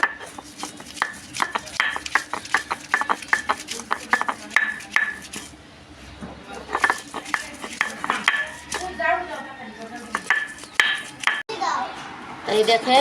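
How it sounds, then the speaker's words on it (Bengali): Garlic for dried-fish (shutki) fritters ground on a flat grinding stone, giving steady rhythmic scraping and knocking strokes close by, with a voice and other speech heard over the work. "এখন রসুনটা সুন্দর করে বাইটে একে একে আপনাকে দেখাইতেছি।"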